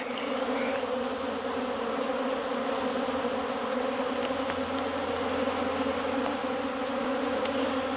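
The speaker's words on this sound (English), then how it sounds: "When the bees start getting a little agitated with you," A steady, dense buzz of many agitated honey bees droning continuously at close range on a farm, with no talking.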